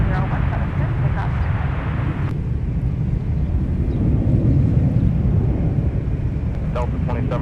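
A United airliner takes off from runway 17 at Minneapolis–Saint Paul airport, producing a continuous heavy rumble with wind buffeting, and talk can be heard over the engine noise.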